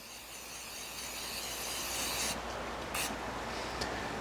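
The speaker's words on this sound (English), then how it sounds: "I like to use a spray can because it makes things so much easier." A steady, close hiss from an olive oil spray can runs throughout, with a couple of brief breaks near the end, and no voices.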